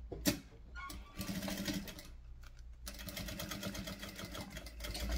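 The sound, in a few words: sewing machine stitching a baguette bag seam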